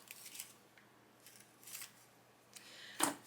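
A single crisp scissors snip trims ribbon on a paper craft card near the end, following a few faint rustles of handling in a quiet room.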